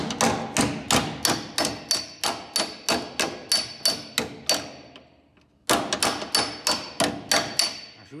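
Hammer tapping thin, delicate sheet-metal car bodywork while the panel is pulled: a steady run of sharp metallic strikes, about two per second, close and loud, with a short pause before the tapping resumes.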